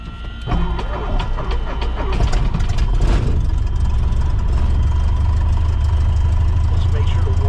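A Cessna 150 light airplane engine runs steadily at low power on the ground, a constant close droning rumble that continues throughout with cockpit noise.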